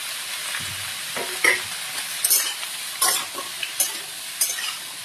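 Kundru (ivy gourd) bhujia with turmeric frying on high heat, a steady loud sizzle broken by several sharp scrapes and clinks as the pan is stirred every second or so, with no talking.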